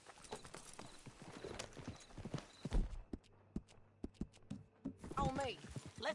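Riding horse hooves in Red Dead Redemption 2 clatter in a quick, regular gait close by, a whinny cutting through briefly while voices talk over the hoofbeats.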